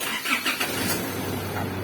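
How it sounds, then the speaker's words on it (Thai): An Isuzu D-Max pickup fitted with a push start button cranks in a few quick pulses and catches, then settles into a steady low idle hum close by. "พี่จะสตาร์ทเครื่องเลยพี่ก็เหยียบเบรกแล้วก็จิ้มเลย"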